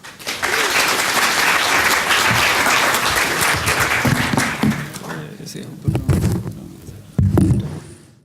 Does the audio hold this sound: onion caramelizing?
no